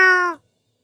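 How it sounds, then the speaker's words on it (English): A swamp cat creature in the Lord of the Rings Online video game gives a single short, tonal meow that stops abruptly, loud and close, followed by silence. "Oh, a swamp cat. Meow."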